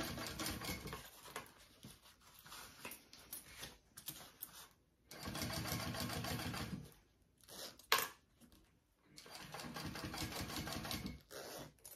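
A sewing machine top stitches along the zipper edge of a handbag, running in steady buzzing bursts of a second or two, separated by pauses and a sharp click, fairly close and with no talking.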